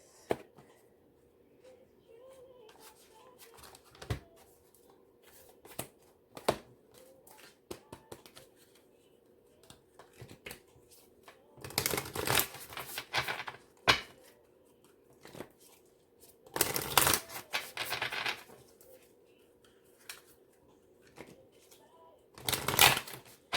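A deck of moonology oracle cards is shuffled by hand nearby, with soft scattered taps and then two longer bursts of riffling and sliding cards, alone in a quiet room.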